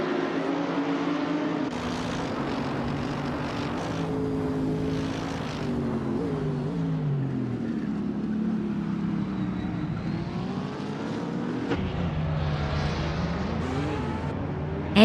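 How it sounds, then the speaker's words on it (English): Several 2011 BMW Z4 race cars in a racing video game launch from the start at Calafat, engines droning loud and steady with overlapping revs rising and falling as the pack pulls away, no voices heard. "the race is underway at Calafat, and leading from the start is bot Aetherplasm in a 2011 BMW Z4"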